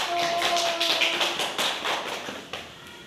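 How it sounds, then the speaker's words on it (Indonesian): A class claps for a student group after its presentation, a dense patter of many hands that starts strong and gradually thins out over a few seconds, with no talking. "beri aplaus untuk kelompok 1"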